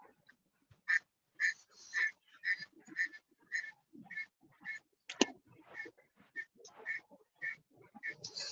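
Ducks quack in a rapid, rhythmic series of nasal calls, fairly close and continuing steadily over a quiet background.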